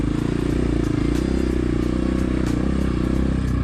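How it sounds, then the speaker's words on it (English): A new beginner dirt bike with a SmartCarb SC3 engine runs at a steady idle, a close, loud, continuous putter with a faint rattle on top. "This is their first brand new dirt bike"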